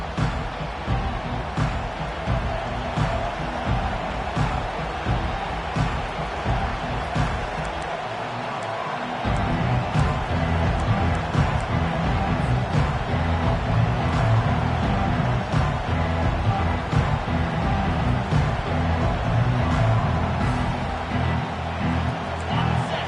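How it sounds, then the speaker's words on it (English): A stadium crowd roars as Notre Dame's college football kickoff unfolds, a loud, continuous wall of noise that swells louder partway through and holds steady to the end. "This crowd bringing an ear-splitting welcome to their visitors."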